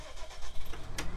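Tractor engine in Farming Simulator 19 cranking and catching, a brief close mechanical churn that settles into a low running rumble.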